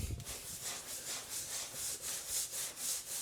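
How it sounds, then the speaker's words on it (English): Sponge scrubbing epoxy grout on a small tiled area, a soft, faint, rhythmic back-and-forth swish repeating steadily about three times a second, with no voices. "I don't have a clean sponge anymore, so then I'll use that to do more scrubbing"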